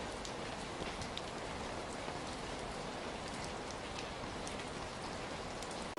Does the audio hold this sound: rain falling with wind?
yes